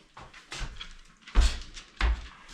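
A door inside a house is opened, giving a few close knocks and thumps followed by two heavy low bumps with brief scraping.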